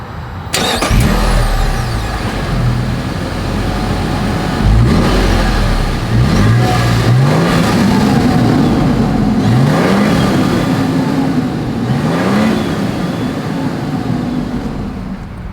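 A 2024 Toyota Sequoia starting up and revving, loud and close at the exhaust, with the engine catching, then several rising and falling revs over a steady idle rumble.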